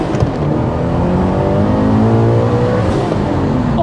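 A turbocharged 340bhp Toyota GT86 at stage 1 tune revs hard, close and loud. The engine note holds steady and drones for a few seconds, and no one talks over it.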